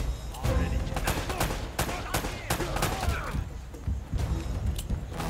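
Rapid gunfire from a third-person shooter game, Uncharted 3, with repeated sharp shots and bursts throughout, loud and close, mixed with game effects and thuds.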